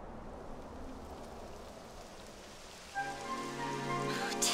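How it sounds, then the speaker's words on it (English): Rain falling in the video game Dragon Quest XI, a soft hiss at first that swells into a fuller, closer downpour with rising patter over the last seconds. "Typical. It would have to go and start raining, wouldn't it?"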